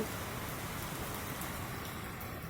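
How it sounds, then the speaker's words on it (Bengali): Rain falling steadily on an empty street after a thunderstorm, a soft, even hiss heard at a distance and fairly faint. "এখন আস্তে আস্তে বৃষ্টিটা কমে যাচ্ছে"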